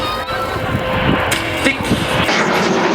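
Patrouille de France jets fly past at the Leuchars Airshow in 2011, making a loud, sustained roar mixed with wind buffeting on the microphone.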